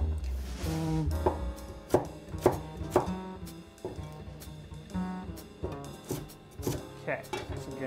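A knife chops yams into small cubes on a cutting board, with a run of sharp, irregular knocks spread across the stretch and a few louder strikes, close up, while a person talks over parts of it.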